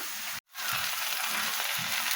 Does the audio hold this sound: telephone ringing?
no